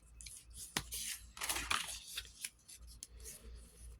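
Paper being folded and creased with a bone folder for a mini triple envelope pocket makes quiet, close rustles, a few sharp creasing scrapes and soft crinkles in short bursts.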